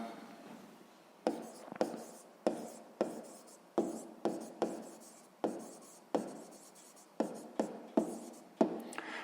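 Pen scratching on paper while math work is written out: a string of short, close strokes in uneven bursts, with quiet speech now and then.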